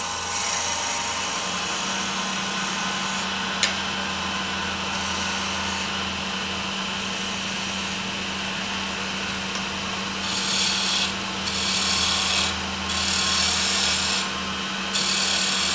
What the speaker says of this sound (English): I basically turned a little bit of a cove right here with my skew chisel.